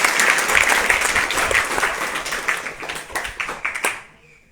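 Applause from a group of schoolchildren at a school address, dense clapping that starts loud and gradually thins out before fading away near the end.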